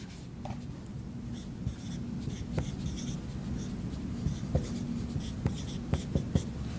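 Pen or marker scratching out a chemical formula by hand in steady strokes and short taps, close and fairly quiet over a low background hum, with no talking.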